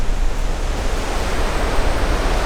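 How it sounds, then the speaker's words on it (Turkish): Waves wash steadily along the Baltic Sea shore near Helsinki, Finland, a continuous broadband roar of surf with wind blowing across it, fairly loud and unbroken, no voices. "burası da Baltık Denizi arkadaşlar"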